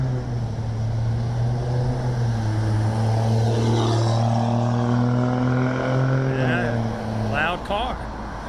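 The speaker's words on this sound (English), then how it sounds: "Loud car." A loud car passes on a street in Harrison, its engine a strong droning hum with steady tonal whine that shifts downward in pitch as it goes by, then fades.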